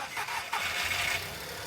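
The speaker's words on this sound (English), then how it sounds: "I'm gonna have a little listen to the chain as we start it up for the first time from cold." A scrap car's engine cranks and starts from cold, a short, fairly quiet burst that settles into a rough running note.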